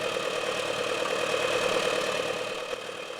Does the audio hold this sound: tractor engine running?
yes